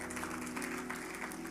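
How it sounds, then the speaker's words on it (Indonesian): A church congregation applauds, a brief, soft, continuous patter of clapping heard at some distance. "Tepuk tangan bagi Tuhan."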